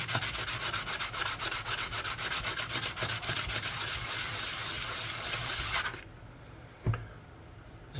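Edge of a silver Finnish 200 Markkaa coin ring being sanded, a close, rhythmic rubbing scrape for about six seconds that then stops, leaving a quieter room with a brief knock.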